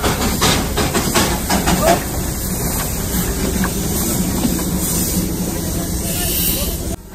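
Steam hisses loudly from the steam engine of the Darjeeling toy train at Ghum station, a continuous broad rushing spray close by, with speech mixed in over the first seconds.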